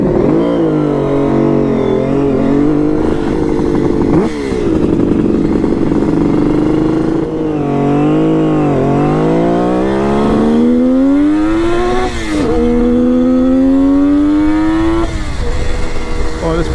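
A Kawasaki KH500 H1 two-stroke triple motorcycle engine revs and accelerates loudly through rising and falling gear pulls, close and continuous, with a rider's voice faintly under the engine.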